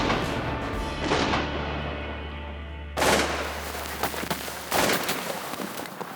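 Shotgun blasts on a Saskatchewan waterfowl hunt, a few loud, sharp outdoor shots heard close by, spaced a second or two apart with short echoing tails and no talk over them.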